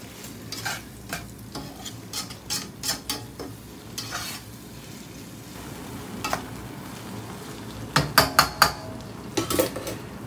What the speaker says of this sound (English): so this corn can get fried up